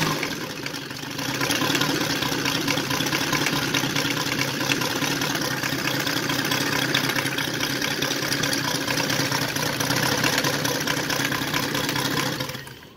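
A UMS 260cc aircraft engine with an RCEXL CDI ignition and a 34x12 propeller idles at around 500 rpm, holding a steady, loud, close rumbling putter that runs on evenly before cutting off at the end.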